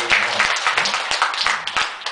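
Clapping from an audience at a Buddhist temple lecture, a dense patter of hands that runs steadily under someone talking over it.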